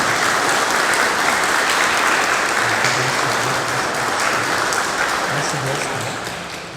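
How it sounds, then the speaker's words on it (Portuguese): A church congregation at a Lutheran baptism claps together in dense, sustained applause that stays loud and close throughout, with a few voices mixed in as it begins to ease off at the end. "Vamos bater palmas"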